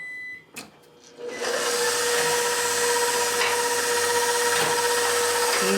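A stand mixer switches on at about 1.3 seconds, after a quiet start, and runs at a steady loud whir while it mixes sourdough cinnamon raisin dough.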